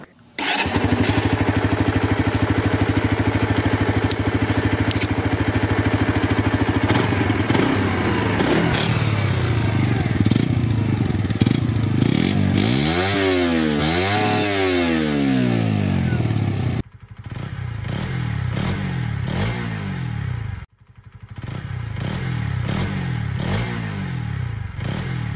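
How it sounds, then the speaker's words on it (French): Two stock-exhaust motorcycles, a Suzuki GSX-S and a Honda CB125R, idle and rev in turn, with steady low engine drone, rising and falling revs mid-clip, then a brief cut to the second bike's quieter, muffled running; no talk. "Je te mets les sons des 2 pots d'échappement d'origine successivement, en commençant par la Suzuki et en finissant par la Honda."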